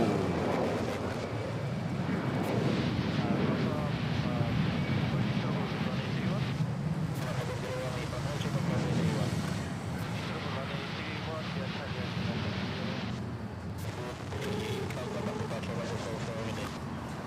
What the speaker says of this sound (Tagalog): Nice early rotate, smooth takeoff there by the Cebu Pacific A321 to